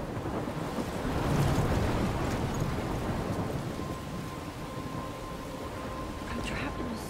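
A storm at sea in the video game Life is Strange: heavy rain and rolling thunder roar continuously as a dense, loud wash, with wind gusting through it.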